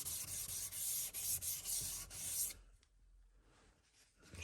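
Light, even strokes of an oboe reed knife drawn across a sharpening stone, a steady rubbing rasp with regular pulses that stops partway, leaving near silence.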